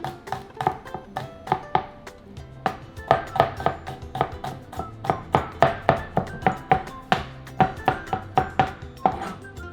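Garlic cloves being chopped with a knife on a cutting board, a steady run of crisp, close knocks at an even rhythm, with no talking.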